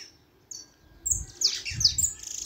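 Saffron finches (canário-da-terra) in a backyard in Brazil give sharp, high chirps and squeaky calls in quick overlapping bursts, fairly close and clear over a quiet background.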